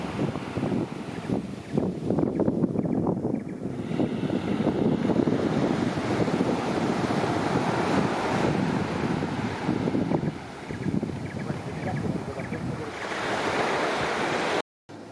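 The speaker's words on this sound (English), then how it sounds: "the sea looks reasonably calm" Sea waves and surf at Railay Beach in Thailand roll and wash steadily, loud and close, with gusts of wind buffeting the microphone throughout and no one talking.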